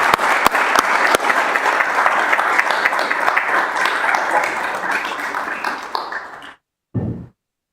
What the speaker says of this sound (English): Can I get a big round of applause for Carl Snowden?